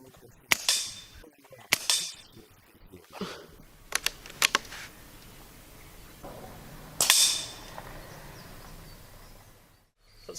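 A Norica Hawk GRS gas-ram air rifle fires a string of sharp, snappy shots at irregular intervals during target shooting, each a brief crack close by with light clicks and handling noise between.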